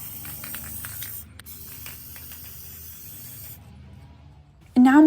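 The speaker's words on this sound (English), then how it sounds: "I'm going to be spraying the bottoms and the sides first." A spray paint can hisses steadily onto thrifted glass vases for a matte finish, a close continuous spray that stops abruptly, followed by a brief loud sound at the very end.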